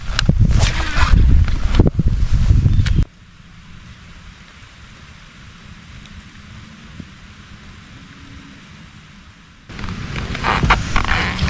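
Rain falling on the water around a bass fishing boat, a steady loud patter that drops to a quieter hiss in the middle before returning, with no talk.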